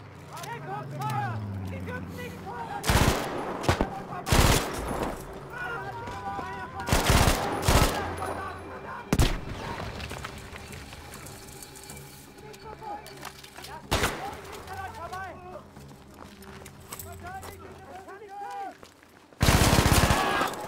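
Gunfire from a weapon shot from the hip in Battlefield V, heard as loud, close bursts of shots separated by gaps, with someone talking between them over game sounds.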